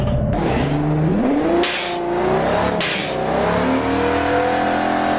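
A high-revving 800-horsepower muscle car engine from the game Automation, loud and continuous, with rising and falling pitch sweeps as it is blipped and revved up repeatedly.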